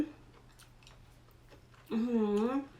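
Soft, close chewing of crunchy fresh seafood, with faint crunchy clicks in a steady rhythm, followed by a short voiced hum of approval.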